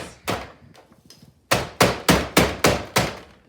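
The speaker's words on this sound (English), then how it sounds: "I really should be wearing goggles when I hammer this into smaller pieces" Dry ice is struck with a hammer to break it into smaller pieces: a few lighter taps, then six loud, evenly spaced sharp blows close by.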